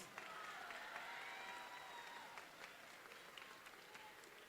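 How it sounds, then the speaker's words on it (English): Audience applauds at a 2023 middle school graduation ceremony, with a steady wash of clapping that stays strong and then gradually thins toward the end, with a few faint voices mixed in. "Let's give them another round of applause."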